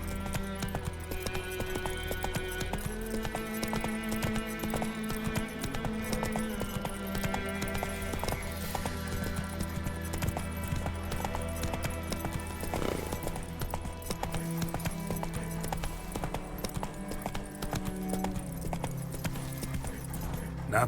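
Roach, the horse in The Witcher 3, gallops with a steady clip-clop of hooves running under a constant bed of game music, the hoofbeats close and rhythmic for the whole stretch.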